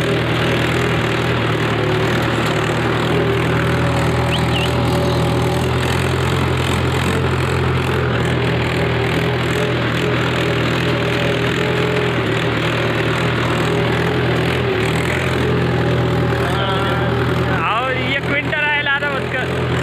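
A farm tractor sowing seeds runs as a steady, loud engine drone with a low, even hum throughout, and voices talk over it near the end.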